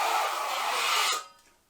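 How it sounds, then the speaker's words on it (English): A metal trowel slides across drywall over the screw heads, making a close, rough scraping hiss that lasts about a second and then stops abruptly. "I'm sliding it around so that if you hear a twang, it usually means that the screw isn't buried properly in the drywall"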